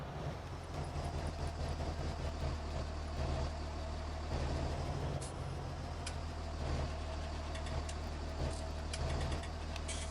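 Unimog truck in Farming Simulator 19, its engine droning with a steady low hum and rolling mechanical rattle as it drives along for the full stretch, with no talking.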